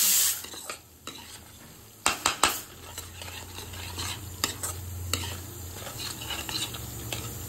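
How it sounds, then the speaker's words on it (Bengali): Stirring spices, salt, sugar and vegetables for aloo kumror chokka in a pan, with scraping spatula strokes, a few sharp clinks and faint sizzling underneath. "সমস্ত উপকরণ এবার আমি ভালোভাবে মিশিয়ে নিচ্ছি।"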